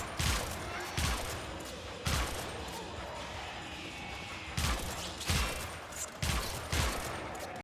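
Burst rifle fire from the video game Warframe: short clustered volleys crack out at irregular intervals, roughly a second or two apart, over a steady busy game ambience with faint clatter between bursts.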